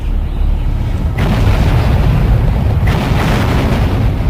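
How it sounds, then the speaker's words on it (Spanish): Cannon artillery pounding the city walls of Pavia: heavy, continuous booming rumble that fills the low end, loud and dense, with a fresh blast surging in around the middle and no voices. "ordenó que los cañones lanzasen todo su poder sobre los muros de Pavía"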